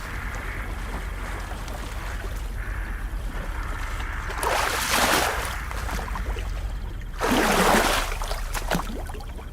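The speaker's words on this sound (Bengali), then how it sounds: "বেশ কিছুক্ষণ নৌকা চালানোর পর ওরা পৌঁছে যায় পাকজলাতে" Cartoon sound effect of a wooden boat being rowed across a dark marsh: a steady watery wash with two louder surging splashes of oar strokes pulling through the water.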